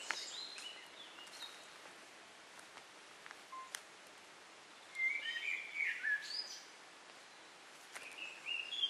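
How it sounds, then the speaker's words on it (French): Birds chirp and sing along a hillside trail climbing toward the Cotatay dam, with several short, bright calls in bursts partway through and near the end over quiet outdoor ambience. "Un petit moment de silence pour apprécier le gazouillement des oiseaux."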